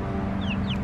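Backyard chickens, two young roosters and a hen, give a couple of brief high chirps and clucks over a steady low hum.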